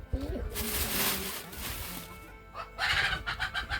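Chickens cluck around a rural Lao home, with a burst of clucking near the end. People talk over the birds for much of the time.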